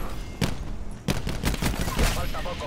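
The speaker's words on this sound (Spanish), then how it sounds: "cuando te disparan con un arma de un calibre de estilo esta, es como que se oyen mucho los disparos" Gunfire in Black Ops 4, including an Auger DMR: sharp, loud shots come in short clustered bursts, each decaying quickly, with brief gaps between volleys.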